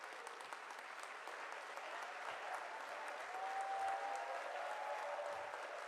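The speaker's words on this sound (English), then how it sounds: "Let's give Team Philippines a big round of applause." Audience applause at a send-off ceremony for the Philippine delegation to the 32nd SEA Games, a steady dense clapping crowd filling the space from start to finish at even loudness.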